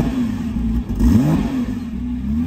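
A Nissan R33 GT-R 400R engine fires and idles with a deep, loud rumble, then climbs briefly in a quick rev before settling back, heard close with no talking.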